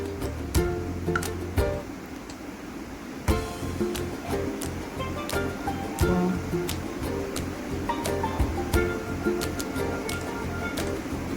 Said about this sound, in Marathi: मी आता पाणी घालते.